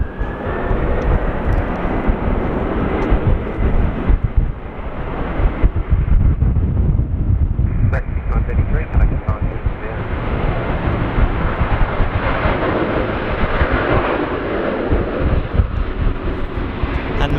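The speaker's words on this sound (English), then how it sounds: "I got a Qantas A380. Pretty loud." A Qantas Airbus A380 airliner roars on takeoff at Sydney Airport on a windy day, a loud, sustained jet rumble with wind buffeting the microphone throughout.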